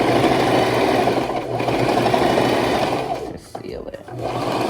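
A sewing machine stitches a faux fur cushion cover, its steady motor hum running continuously and pausing briefly near the end, while someone speaks over it.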